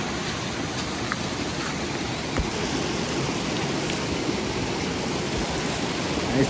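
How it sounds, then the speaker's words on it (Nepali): A small stream flows nearby, a steady rushing hiss of water that holds constant throughout, with no speech. "यो चाहिँ कुलो, यता पानी लाने खोलो चाहिँ सानो रहेछ।"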